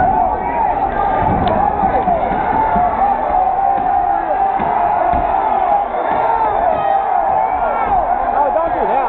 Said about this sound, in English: Everybody's yelling, no, don't.